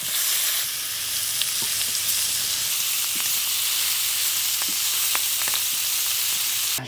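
Freshly caught pond fish sizzling in hot oil in a village kitchen, a steady close frying hiss with occasional sharp pops and crackles throughout, no talking.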